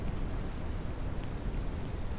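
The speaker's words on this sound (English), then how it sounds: "can I please have the option to turn off rain completely?" Steady rain pours in the Ranch Simulator video game, a dense, even hiss of falling drops that fills the short span without pause or talk.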